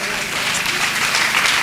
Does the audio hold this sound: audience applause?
yes